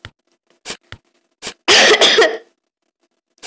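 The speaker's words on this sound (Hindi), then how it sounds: "थोड़ा खांसी हो गया" A few short throat sounds, then a harsh burst of coughing, close and loud, followed by quiet.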